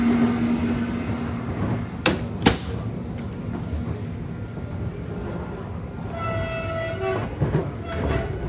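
Romania's new electric train rolls into Buftea station with a steady rumble and clatter, two sharp metallic bangs early on, then a tonal horn or brake squeal near the end, loud and close.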